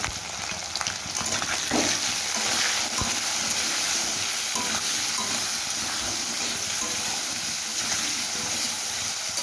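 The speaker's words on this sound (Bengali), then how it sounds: "আলুগুলো ভালো করে ভাজা হওয়া অবধি ওয়েট করবো" Salted potato pieces fry in a pan with a steady, even sizzle throughout, close and moderately quiet, with no voices.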